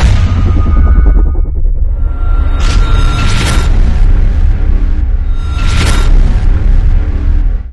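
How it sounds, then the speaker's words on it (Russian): Heavy booming blasts from an Israeli armoured vehicle detonating on a minefield, loud and continuous, with sharp bursts around the middle and later, no speech. "Позже в бригадах сообщили, что бойцам удалось заманить израильскую бронетехнику в ловушку на заранее подготовленном минном поле, где она была взорвана."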